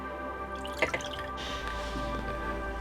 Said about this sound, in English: Pour in some water first.